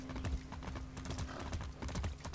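Steady clip-clop of horse hooves at a quick gait in Far Cry 6, with a faint hum in the background and no talking.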